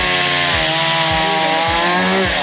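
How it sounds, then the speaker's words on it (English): A chainsaw runs loud and close while milling wood in the Vanuatu bush. Its high, buzzing drone holds steady under load, with repeated dips as the cut bites. "After we'd watched them milling with the chainsaws for a while, our guide Richard took us a little bit deep"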